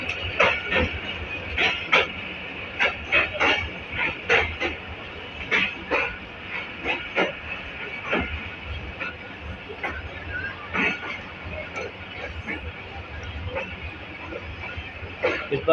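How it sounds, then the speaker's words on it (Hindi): A train pulls into Karachi Cantt railway station, with rhythmic clattering of wheels over rail joints and a continuous rumbling under ambient station noise. "इस वक्त हमारी train one up KCR Karachi cantt railway station पर अराइवल कर रही है"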